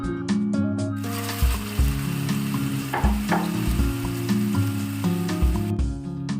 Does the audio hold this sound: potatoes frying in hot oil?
yes